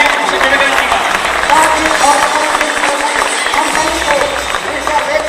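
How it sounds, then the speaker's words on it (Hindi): Loud, dense applause fills a hall as an audience welcomes a doctor at an event in Patna, steady clapping with a murmur of crowd noise and scattered cheers throughout. "जोरदार तालियों से स्वागत करें"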